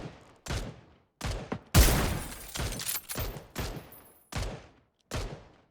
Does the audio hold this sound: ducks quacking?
no